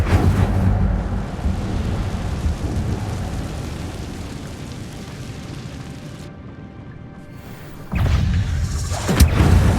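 Incendio fire spell cast in a video game: a loud, roaring, rushing blaze that slowly fades, then a sudden fresh burst of flame near the end, with no talking.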